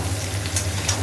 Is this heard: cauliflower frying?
yes